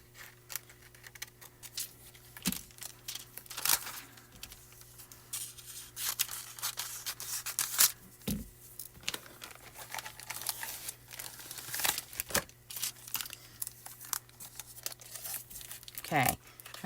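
Diamond plate look toner foil sheet is cut and handled close by, with crinkling, rustling and snipping sounds in irregular bursts, along with quiet talk.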